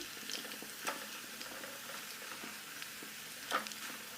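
Kerala-style raw banana chips frying in hot oil at home, giving a quiet, steady sizzle with a few scattered crackles and pops and no voices.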